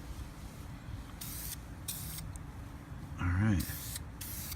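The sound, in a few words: spray painting a lawn vacuum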